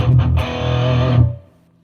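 An electric guitar chord rings through a Headrush rig with distortion and reverb placed at the end of the chain, a thick sustained crunch that swells briefly and then fades into a short tail.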